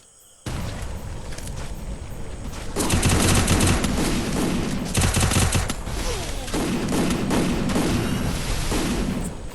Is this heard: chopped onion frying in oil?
no